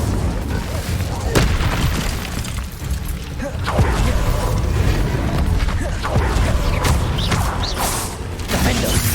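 Fire spell blasts from the Hogwarts Legacy video game erupt in a dense, busy stretch of combat, with repeated booming bursts and crackling impacts layered over continuous mechanical clatter and rumble throughout.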